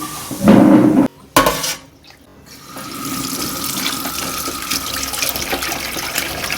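Tap water runs into a kitchen sink while peeled shrimp are rinsed, with a splashy burst and brief clinks at first, a short break, then a steady stream of running water.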